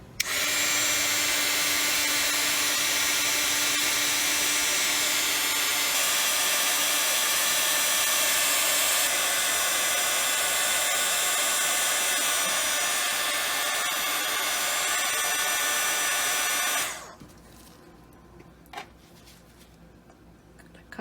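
A heat gun blows steadily on freshly poured resin coasters to pop surface bubbles, a loud continuous whooshing roar that cuts off near the end, leaving quiet room sound.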